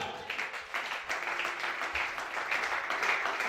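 A church congregation applauds at a Gabonese prophet's service, a steady, fairly soft wash of clapping that holds throughout with no clear voices.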